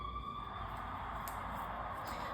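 A passing police car siren wails steadily in the distance over a low background rumble, faint and continuous throughout, with no talking.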